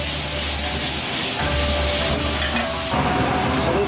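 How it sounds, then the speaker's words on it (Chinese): Chicken and pickled bamboo shoots are stir-fried in a hot wok with a splash of Huadiao wine, giving a steady loud sizzle and hiss with intermittent scraping as the pieces are tossed. "快速翻炒均匀。"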